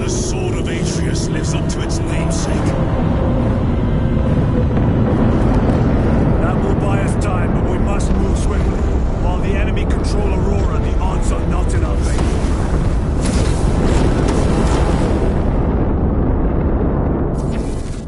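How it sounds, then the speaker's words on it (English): Engines approach as a loud, steady roaring rumble, with booming blasts mixed in, while voices talk over the noise throughout. "I hear engines."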